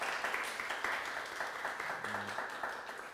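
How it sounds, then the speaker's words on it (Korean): Congregation applauding to welcome a new member during a Korean Presbyterian Sunday worship service, a steady, fairly faint wash of clapping from a room full of people lasting the whole stretch. "큰 박수로 환영하겠습니다"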